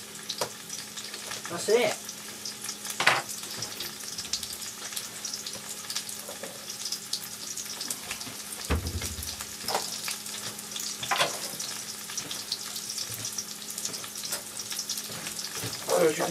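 Cut mushrooms frying in a bit of oil in a pan, a soft continuous sizzle with occasional stirring scrapes and clatters, while a person speaks briefly over it.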